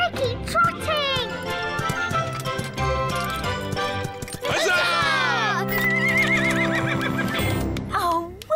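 A cartoon horse whinnies loudly several times, with clip-clopping hooves and a light jingle of tack, mixed with a voice and music in a busy animated scene.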